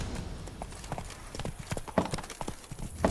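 Horse galloping in the video game The Witcher 3: Blood and Wine, rapid rhythmic hoofbeats at moderate distance, fairly quiet and alone.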